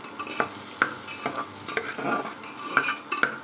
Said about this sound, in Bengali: আর একটুখানি হলুদ দিয়ে দিলাম দিয়ে একটু নেড়ে চেড়ে নিয়ে ডালটা বসিয়ে দিলাম